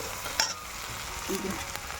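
Okra fries with spices in a kadai, giving a faint, steady sizzle with a light clink of stirring partway through.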